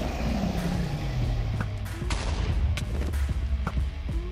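Rapid, forceful shots from a modded weapon in Minecraft land as a string of sharp, close bursts over a steady rumbling game backdrop.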